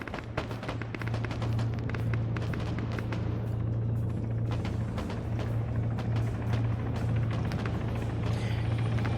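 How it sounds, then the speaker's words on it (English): Helicopter passing overhead in a military wargame, a low steady rotor thrum running through the clip with scattered sharp impacts and rumbling around it. "if the helicopter hadn't gone over"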